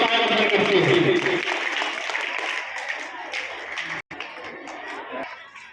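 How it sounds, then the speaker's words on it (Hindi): A school audience of children and adults at a Hindi-language school event claps loudly at first, then the applause thins and fades, with voices mixed in. "जोरदार तालियां की जाती है, इसलिए तालियों की गड़गड़ाहट कहीं न कहीं बच्चों का सभी का उत्साह बढ़ करती है"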